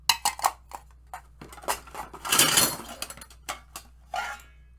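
Plastic bowls clatter and knock as they come out of a plastic tub of feast gear: a string of sharp close taps and rattles, with one louder scraping jumble in the middle.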